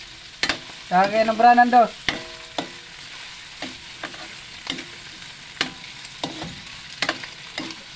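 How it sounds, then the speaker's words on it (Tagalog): Someone sautés a home-cooked dish (ulam) in a pan, with steady sizzling and sharp utensil clinks and scrapes throughout; a voice speaks briefly near the start. "Nagigisa po tayo ng kuan. Ulam."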